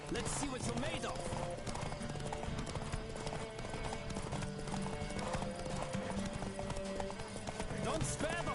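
A horse gallops with rapid, steady clip-clop hoofbeats in The Witcher 3, carrying on loudly the whole way through beneath a busy game soundtrack, while a voice speaks over the top.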